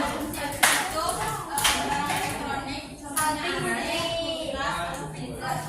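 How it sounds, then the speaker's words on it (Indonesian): High school students clap their hands together in a classroom during a lesson on global warming, a loud, lively burst that swells and fades, mixed with young voices talking. "tepuk tangan dulu duluan"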